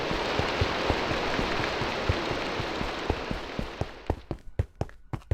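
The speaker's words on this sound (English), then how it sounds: "It rains where the carrots grow." Steady rain hisses across a Minecraft world, thick and constant at first, then thinning into scattered, distinct drops that patter sharply toward the end, with no voices.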